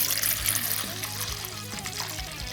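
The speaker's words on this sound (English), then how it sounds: "put a little rust remover on all the hardware" Rust remover trickling and splashing onto bolts from an aftermarket exhaust for a CFMOTO CFORCE 1000 ATV, a close, continuous wet pour with a faint hum underneath.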